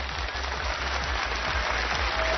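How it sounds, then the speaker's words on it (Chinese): A studio audience applauds on a Chinese TV talent show, a dense, even patter of clapping sustained throughout without voices. "掌声送给蔡国庆"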